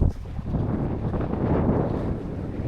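Wind gusts buffet the microphone aboard a small sailboat sailed solo off Plymouth, a steady low rumble with no voices.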